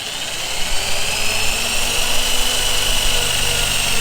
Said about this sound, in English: So let's go ahead and finish drilling, and then we'll do the other rivets and be done with it.